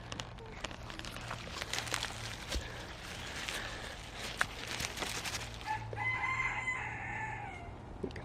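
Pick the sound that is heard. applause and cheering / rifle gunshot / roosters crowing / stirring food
roosters crowing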